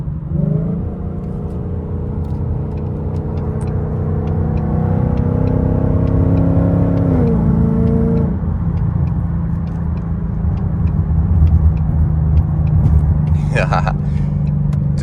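A Ford Mustang S550 cruising on a highway gives a steady, close cabin drone and road rumble with a shifting engine hum, and a person talks over it.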